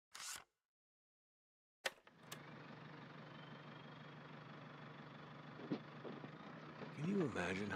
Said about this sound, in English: Listen to this engine, how it purrs.